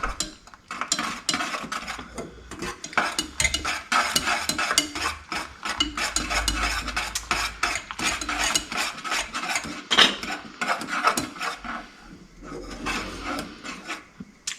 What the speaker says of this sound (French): Je préfère remuer quand même, histoire que ça colle pas au fond et que ça soit bien uniforme comme cuisson.